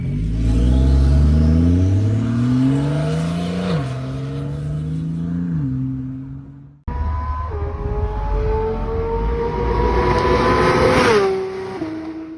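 A turbocharged car engine revs loudly up and down in two bursts, its pitch climbing and dropping with throttle changes, close and prominent.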